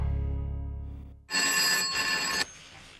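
A telephone bell rings in a loud, bright burst of about a second, cut off abruptly, following a low humming tone; no talking.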